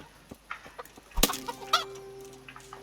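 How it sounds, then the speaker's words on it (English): In the medieval RPG Kingdom Come: Deliverance, a chicken clucks in short scattered bursts, with one sharp louder squawk midway and softer clucks after, faint ambient tones humming underneath. "We can kill the chicken"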